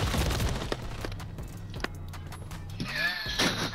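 Shots ring out in Call of Duty: Modern Warfare III, a few sharp separate cracks over game noise and a low engine-like drone, ending in a busier swell of mechanical sound.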